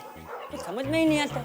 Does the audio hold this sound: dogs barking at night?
yes